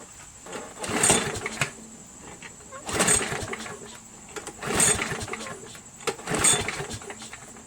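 A Briggs & Stratton Quantum 6HP engine on a Craftsman mower is cranked four times on its short recoil starter rope, each quick pull making a brief whirring rasp at a steady, even rhythm, with quiet pauses between them.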